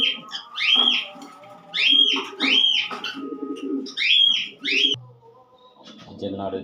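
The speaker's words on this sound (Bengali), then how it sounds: "অসাধারণ একটা কবুতর" A light-coloured male racing pigeon coos close by in a series of rolling, throaty phrases with short pauses between, ending in a softer murmur.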